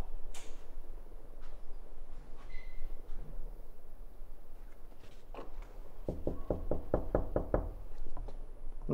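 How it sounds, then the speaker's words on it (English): Gentle knocking on a door at a reception: after several seconds of quiet background hum, a quick run of soft, close raps comes in a steady rhythm with no talking. "Just a gentle tap."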